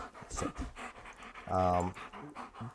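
A year-old, high-energy rescue puppy panting close by in quick rhythmic breaths, strongest in a short burst near the middle, under a person talking.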